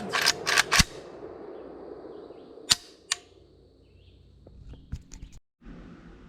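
Zastava PAP M90-PS 5.56 NATO AK-pattern rifle at an outdoor range, heard as a few sharp distant-sounding reports spaced a second or two apart, followed by fainter clicks and handling noises.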